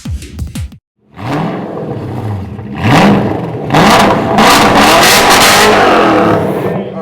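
A Ford GT's engine revs up in several rising surges after a brief quiet gap, loud and close, swelling into a sustained roar toward the end.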